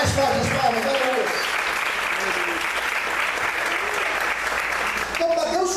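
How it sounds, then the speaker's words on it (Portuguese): A church congregation claps harder and louder during a sermon, a thick, steady roar of applause throughout, with voices calling out over it at the start and again near the end. "Não, mais forte as palmas, aleluia."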